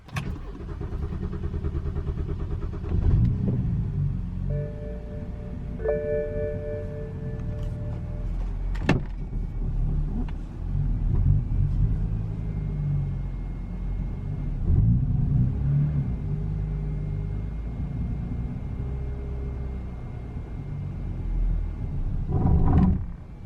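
BMW E90 with an N52 engine and a faulty crankshaft sensor, cranking and running roughly with an uneven rumbling idle, close up, with a few sharp clicks and whines over a steady low engine drone.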